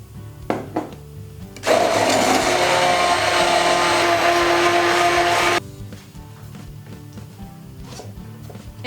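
A kitchen blender whirs loudly and steadily for about four seconds, blending roasted walnuts and water into nut milk, then cuts off abruptly, leaving low background noise.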